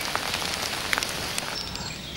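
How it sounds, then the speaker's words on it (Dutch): Rain falls during a carp fishing session in France, a steady soft hiss with scattered light drops tapping close by and no voices. "Gaat regen erop."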